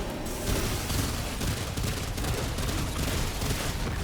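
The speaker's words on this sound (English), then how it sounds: "I'm gonna try the Rune Pistole" The Rune Pistol in the video game Remnant 2 fires automatically in a dense, unbroken volley of rapid gunshots, loud and continuous throughout with no voices.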